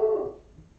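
A dog barks once during a thunderstorm, a short loud bark that quickly fades into quiet room noise.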